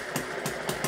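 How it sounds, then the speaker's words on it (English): A hit-and-miss engine drives a small generator rig, giving a steady mid-pitched running drone broken by regular firing thumps about every third of a second, close and fairly loud with no voices. "my generator rig running with the Hit and Miss engine"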